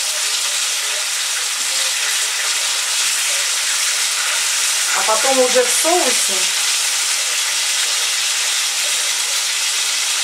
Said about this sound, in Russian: я его сначала обжарю